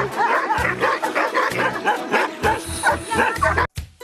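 Dogs bark repeatedly in quick, uneven bursts on a sports ground used as a dog park, some yips and whimpers among them. The barking is close and loud and continues throughout.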